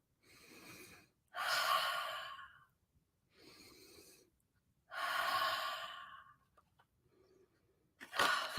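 Sniffing a bag of crayons, several close, loud nasal inhalations in slow succession, alternating shorter and longer sniffs separated by pauses, with no talking.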